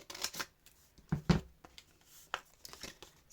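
Scissors snip cardboard during a papercraft lapbook build. Quiet, close crisp cuts and rustles come in short irregular bursts, with one louder snip near the middle.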